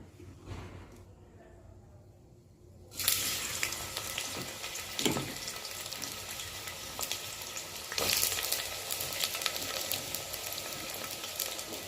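Three medium onions with a bay leaf hit hot oil for a mutton coconut curry, bursting into a loud, steady sizzle after a quiet start and crackling on without break, with brief stirring clatter partway through.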